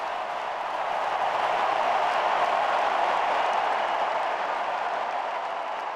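A large tennis crowd at the 2024 US Open final between Sinner and Fritz applauds Fritz's overhead winner, a dense, sustained roar of clapping that swells slightly and holds steady throughout.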